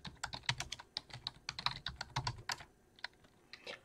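Commands are typed on a computer keyboard in quick, uneven clusters of close, crisp key clicks with short pauses between bursts.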